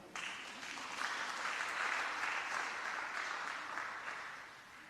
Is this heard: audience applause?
yes